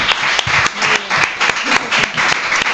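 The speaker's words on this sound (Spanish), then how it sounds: "Aplauso, muy bien." Studio audience applause on a television quiz show, loud and close, with dense clapping in short swells across the whole stretch.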